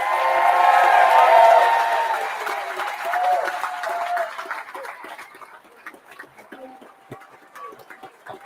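An audience at a political launch event claps loudly, with scattered cheers and whistles in the first seconds, before the applause fades to lighter, sparser clapping.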